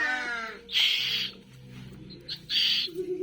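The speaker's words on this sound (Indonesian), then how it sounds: "Lolohan burung tugu lokal Jawa, KTP Malang, Jawa Timur" Calls from a young Asian koel chick of the local Javanese type, from Malang in East Java: two loud, harsh, high-pitched bursts about two seconds apart, each under a second long, with softer rasping in between.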